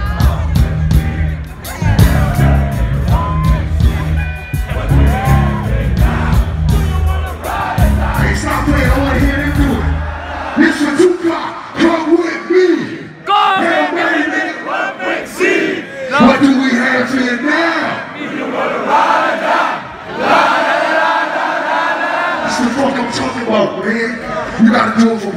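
A large crowd at a live hip-hop concert at 013 in Tilburg yells and cheers loudly, a continuous roar of shouting voices with whoops rising and falling throughout.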